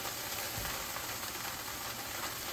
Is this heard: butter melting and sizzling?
yes